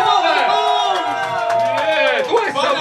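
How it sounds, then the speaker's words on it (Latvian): Party guests at a 33rd birthday celebration cheer and shout together, a loud, rising and falling chorus of voices with some clapping beneath it. "aplausi!"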